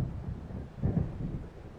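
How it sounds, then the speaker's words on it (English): Low, rolling rumble of thunder from an approaching storm in the video game Alan Wake, a distant swelling boom that peaks near the middle and fades, alone with no talking. "It seems there's a storm coming."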